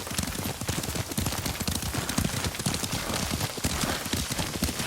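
Horse hooves clip-clop in a fast, steady gallop while riding in the video game Ghost of Tsushima, close and dense without any speech.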